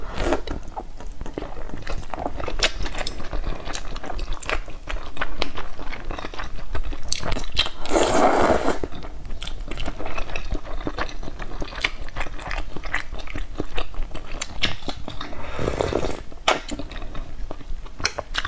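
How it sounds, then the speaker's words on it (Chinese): Luosifen, river snail rice noodles, being eaten up close, with steady chewing, slurping and crunchy bites running throughout at an even, fairly loud level, and no talking. "今天中午吃螺蛳粉"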